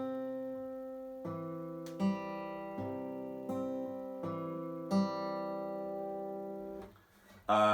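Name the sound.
full acoustic guitar fingerpicking pattern, song intro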